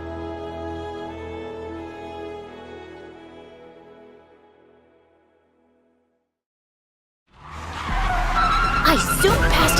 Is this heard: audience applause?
no